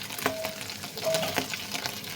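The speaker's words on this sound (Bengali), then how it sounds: "মাছগুলোকে একটু ভালোভাবে ভেজে নেই।" Small dried fish fry in a pan with a soft, steady sizzle and occasional stirring scrapes, fairly quiet and close, with no talking.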